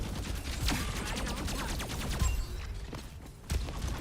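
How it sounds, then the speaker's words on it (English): Rapid gunfire in an Overwatch fight against Doomfist, a dense run of sharp shots and impacts at moderate level with a few heavier bursts. "I'm shooting at a Doomfist"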